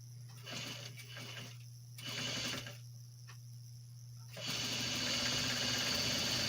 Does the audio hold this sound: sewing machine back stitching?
yes